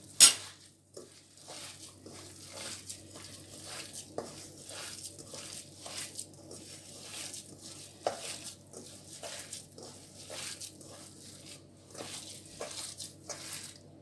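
Chicken meatball mixture with breadcrumbs kneaded by hand in a bowl, soft repeated squelching squishes at a steady working rhythm with a few light clinks, fairly quiet and close.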